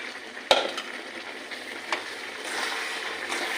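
A spoon stirs mashed mango into melted, syrupy sugar for mango jelly, giving faint scraping and soft sizzling with a sharp clink of utensil against the pan at the start and a few lighter knocks after.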